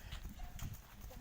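A horse being practiced under a rider clip-clops in quick, uneven hoof beats, faint and somewhat distant, mixed with outdoor noise and voices talking.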